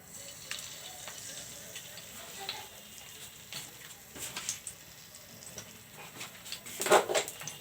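Bay leaves frying in hot mustard oil, a soft steady sizzle with light crackles and a brief louder spatter burst near the end, heard close with no talk.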